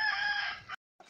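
A tall giant Shamo rooster, a fighting breed, crows once, loud and close, its call cut off sharply, then a brief scrap of a second sound.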